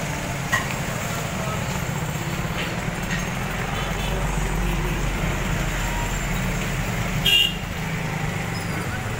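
A jeepney ride through traffic: a steady rumble of engine and road noise fills the whole stretch, with a brief horn toot near the end. Faint voices sit under the traffic din.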